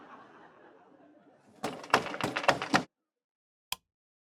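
Someone knocks on a door at night with a quick burst of about half a dozen sharp raps and then a single lone tap, after a quiet hum.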